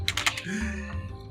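Keys clatter on a computer keyboard in a quick burst of close, crisp clicks at the start, followed by a quieter stretch with a low hum.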